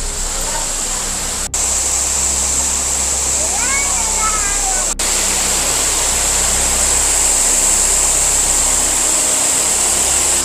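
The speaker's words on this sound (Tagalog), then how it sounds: "Ang tawag nila dito ay Tamaraw Falls." Tamaraw Falls in Puerto Galera roars as a loud, continuous broadband rush of falling water, steady throughout, with faint voices briefly audible beneath it.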